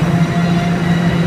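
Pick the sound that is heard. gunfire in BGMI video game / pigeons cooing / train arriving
train arriving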